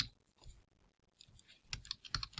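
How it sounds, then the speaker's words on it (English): Keys on a computer keyboard being typed while entering a command, quiet scattered taps early then a quick burst of louder clicks near the end. "So then we just type Python"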